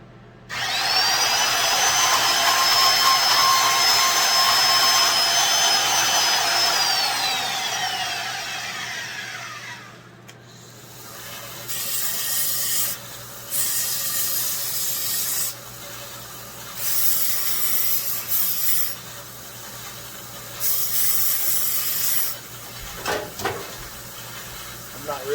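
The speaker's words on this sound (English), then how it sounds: "To the saw. We're going to give her a little trimming." A power saw whines loudly and steadily for several seconds during maintenance on a bellhopper, then winds down, followed by repeated bursts of rough cutting or spraying noise with short gaps between them.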